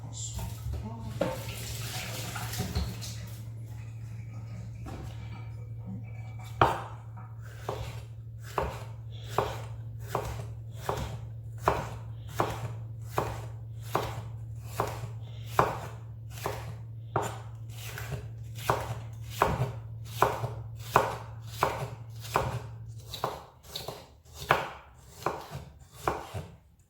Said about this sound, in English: so cut our sweet pepper